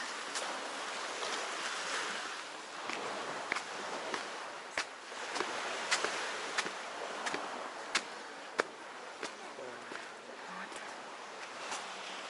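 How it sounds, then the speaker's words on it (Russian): Sea waves wash steadily ashore along the coast at Zelenogradsk, a continuous broad surf roar with wind noise and scattered sharp clicks, moderately loud and without pause. "Море приятно шумит."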